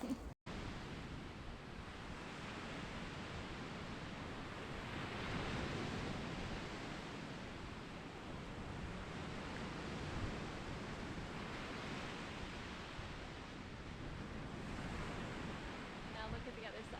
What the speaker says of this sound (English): The waves were so big